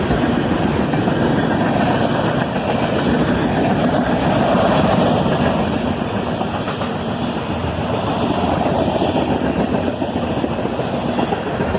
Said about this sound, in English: A pair of ES44 ACHs lead this southbound manifest train.